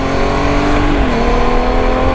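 A Honda Goldwing motorcycle engine revs loud and close as it accelerates, its tone climbing and then shifting pitch briefly mid-pull in a sustained, unbroken drone.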